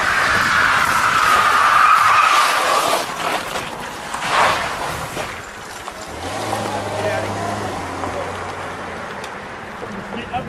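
Tires screech as a car skids around a corner on a road, a loud broad squeal that fades after a few seconds into engine noise and distant traffic, with people talking nearby.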